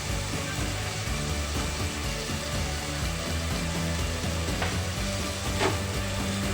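Tomatoes with a spoonful of salt sautéing in a pan for an aloo gobi dish, giving a steady, continuous sizzle close up with faint stirring scrapes and no talk.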